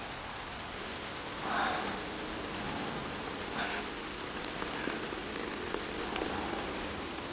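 Heavy rain falls in a scene from a wuxia period drama, a steady dense hiss that fills the whole stretch, with a brief breathy swell near the start and faint scattered drips and rustles later.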